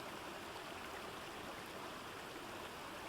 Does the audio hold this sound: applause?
no